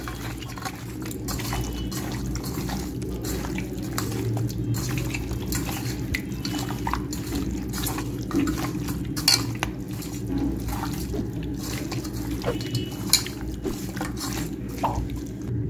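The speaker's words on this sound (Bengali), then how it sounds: "ভালো করে মেখে নেবো" Chicken being mixed by hand with a marinade of half a lemon's juice for a palong (spinach) chicken dish: steady wet squishing and soft clinks of a bowl, with no talk over it.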